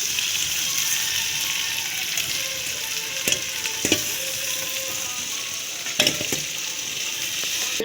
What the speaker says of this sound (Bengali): এবারে পটল আলুগুলো ভাজা হয়ে গেছে আমার, এই যে পেঁয়াজগুলো ভাজা হয়ে গেছে।